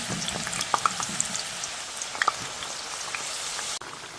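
Steady crackling sizzle of potatoes frying in hot oil, with a few sharper pops and spatters scattered throughout, fairly close and without any voices.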